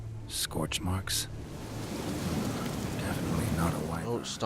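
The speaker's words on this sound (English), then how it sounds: "Oh, it's starting to rain." Rain beginning to fall in The Witcher 3: Blood & Wine, a soft steady patter building under a voice at the start and end.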